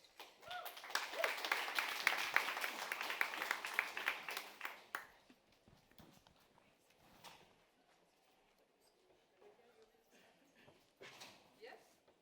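Loud audience applause and cheering at a live debate as the jury is welcomed on stage, lasting about five seconds before fading to scattered claps and room noise.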